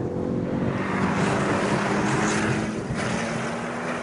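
A Ford Focus RS engine drones steadily from inside the cabin, a loud, even hum with a low throb underneath and no break in its tone over the few seconds, with no talking.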